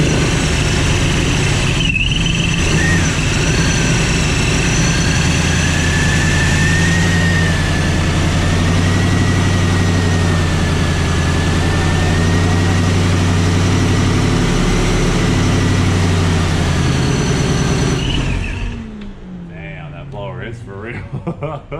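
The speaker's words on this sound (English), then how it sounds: "Yeah, I heard it and it was like idling at 600 RPM." A 7.0L LTX V8 fitted with a ProCharger race blower idles loud and close, a steady heavy low rumble with a whining tone over it, reportedly not firing on all eight cylinders, before cutting off near the end.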